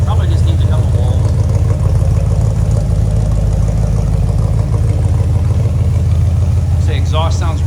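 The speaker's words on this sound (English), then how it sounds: "exhaust sounds great, great looking car" A 1966 Chevrolet Impala SS 327's exhaust rumbles at idle with a deep, steady burble close by; a voice speaks briefly near the end.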